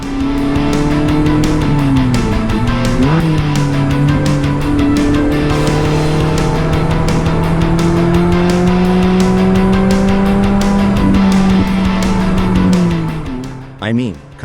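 Mazda Miata engine droning steadily on a remote winding road, pitch rising and falling with the throttle, loud and continuous before it cuts off near the end.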